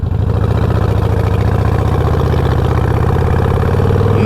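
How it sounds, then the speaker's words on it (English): A 2020 Harley-Davidson Roadster motorcycle fitted with a Vance and Hines Fuel Pack idles steadily and loudly up close, its deep, even rumble holding without revving or any voices. "So I can definitely tell that the bike's either warming up or the fuel pack's starting to lower the RPMs."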